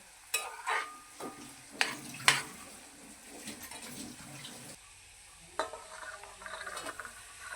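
Potatoes fry golden in oil in a pan for aloo pulao, a quiet sizzle broken by several sharp clinks and scrapes of a spatula, then a steadier crackle toward the end.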